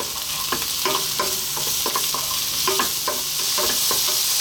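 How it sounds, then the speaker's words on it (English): Eggplant frying in oil in a pan over lively heat, a dense steady sizzle with repeated scraping taps as the pieces are tossed and stirred, close and continuous. "on a fairly lively heat, we're just going to throw this around in the pan for about 4 minutes"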